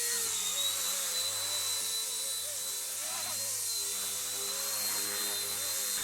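An ERA C138 1/33 scale RC Bell 206 helicopter motor spins up for takeoff, a steady high-pitched electric whine with faint rotor hum, close and continuous, with no talking.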